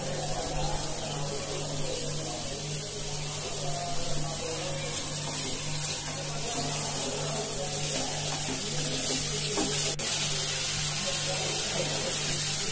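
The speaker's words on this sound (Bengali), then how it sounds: "সস দিয়ে লবণ দিয়ে আমরা এটা একটু হালকা ভেজে নিব।" Chopped cabbage, carrots and beans fry with sauce and salt in a pan, giving off a steady, close sizzling hiss over a low constant hum.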